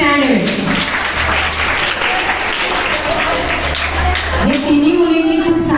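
An audience at a school elocution competition on Gandhi Jayanti gives sustained applause for three prize winners, steady clapping running throughout while a voice speaks over it.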